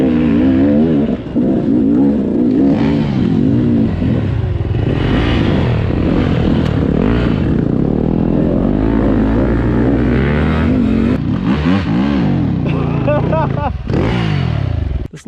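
A KTM XCW 200 dirt bike engine rides a foggy forest trail in the North Cascades, close and loud, its revs rising and falling constantly as the rider works the throttle.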